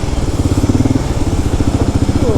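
Kawasaki KLR 650 motorcycle engine running steadily while riding, a loud continuous throbbing drone with rapid even pulses and no speech.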